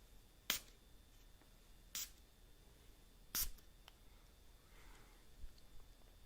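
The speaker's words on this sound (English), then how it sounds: "So I'm gonna spray some perfume." Three short, crisp spray bursts spaced a second or so apart, each a quick hiss, against a quiet room background.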